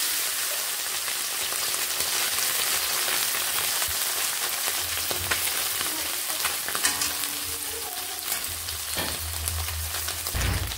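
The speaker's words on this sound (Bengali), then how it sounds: "কড়াই বসিয়ে দিয়ে একটুখানি তেল আমি গরম করে নিলাম। এবার আমি এই মাছগুলোকে এখানে একটু করে ছাড়ছি।" Small fish frying in hot oil in a wok make a loud, constant crackling sizzle with scattered spits and pops and a few low utensil knocks near the end.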